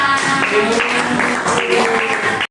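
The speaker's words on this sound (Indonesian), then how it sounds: "Oke, tepuk tangan untuk kita semua" Applause from a group at a personal-potential training session, a dense continuous wash of clapping for about two and a half seconds with some voices mixed in, then cutting off abruptly.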